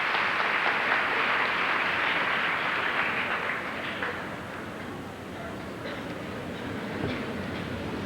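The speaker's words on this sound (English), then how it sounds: "a big round of applause" Applause at a 1984 high school baccalaureate ceremony, a broad, somewhat muffled wash of crowd clapping that dips midway and continues at a lower level, heard from a distance on an old recording.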